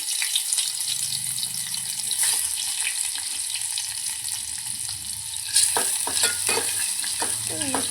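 Onion and tomato sauté in a pan for tiranga pulao, a continuous close frying crackle broken by several sharp stirring clicks and scrapes later on, with no voices.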